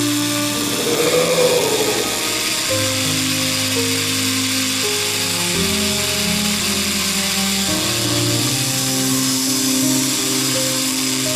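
A power tool cuts through the metal of an iPhone X, throwing sparks, with a loud continuous grinding whine that shifts pitch as it bites into the phone.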